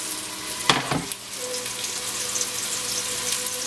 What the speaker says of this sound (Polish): Obsmażamy z wszystkich stron na brązowy kolor.